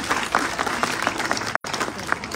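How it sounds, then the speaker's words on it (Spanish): Spectators at a 2022 Fiestas Patrias parade in Champa greet officials with a burst of sustained crowd clapping, steady and fairly loud, briefly cut by a short gap. "Vamos a saludar con un fuerte aplauso a nuestra concejala Cecilia Altamirano."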